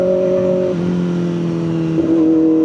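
A Kawasaki Ninja motorcycle hums close by at around 50 while being ridden, a steady engine drone whose pitch shifts upward near the end.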